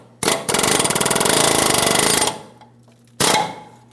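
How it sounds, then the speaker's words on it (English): Hammer striking a control arm bolt on a 2007-2014 GMC Sierra 2500 HD to drive it out of position, a loud rapid burst of metallic blows for about two seconds, then a short second burst. "I'm going to start tapping this out of position."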